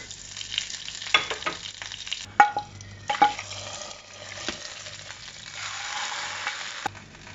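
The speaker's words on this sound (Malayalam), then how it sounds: "അതിനകത്തോട്ട് ഞാൻ കുറച്ച് കടുക് ഇട്ട് കൊടുക്കുകയാണ്" Mustard seeds, dried red chillies and curry leaves sizzle and crackle in hot coconut oil for a Kerala sadya kurukku kalan tempering, a steady fry with scattered sharp pops and a louder hissing burst toward the end.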